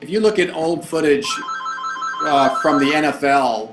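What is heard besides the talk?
mobile phone ringing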